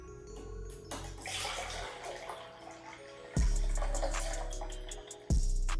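Freshly cold-pressed juice from a slow juicer is poured, a steady liquid splash heard close and fairly quiet. The stream changes abruptly twice as the flow shifts.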